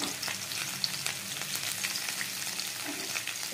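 Chopped garlic and green chili fry in hot oil with a close, steady crackling sizzle, broken by a few light stirring scrapes.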